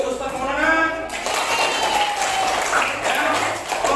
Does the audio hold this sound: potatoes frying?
no